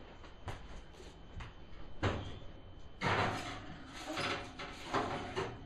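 Oven door being handled and shut after cookies go in, a few faint clunks and thuds followed by a louder closing bang amid quiet kitchen noise.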